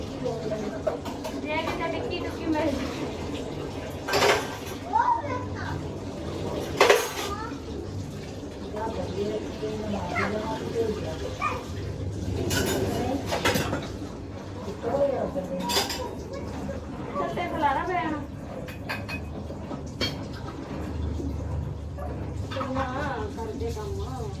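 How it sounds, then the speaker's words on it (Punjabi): Dishes are scrubbed and washed by hand, with scattered clinks and clatters of pots and utensils under fairly continuous nearby talking. "ਭਾਂਡੇ ਹੁਣ ਮਾਂਜੇ"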